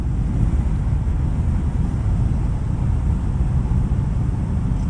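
Strong, gusty wind roars steadily against the microphone during a model airplane's landing approach, a loud continuous low rumble with no letup.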